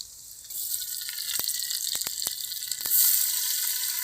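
Tomatoes go into a hot tempering for Rajasthani dal, giving a steady broadband sizzle that swells louder near the end, with a few sharp clicks of utensils along the way; no voices.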